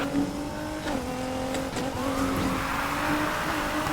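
Race cars in Need for Speed Heat roar through a steady engine drone with shifting revs and brief tire squeals during a cop chase, loud and continuous throughout.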